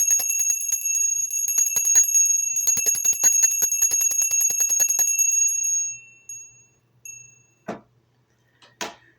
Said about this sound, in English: ringing the bell as well to clear the air